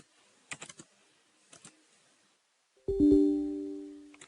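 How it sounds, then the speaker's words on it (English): A few quick keyboard taps, then a louder sustained tonal sound with a strong hum takes over toward the end. "So I'm typing the copy command"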